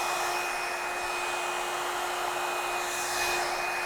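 A Revlon One Step hair dryer and styler drying hair, a continuous loud close whooshing blow with a steady motor whine that holds constant throughout, without speech.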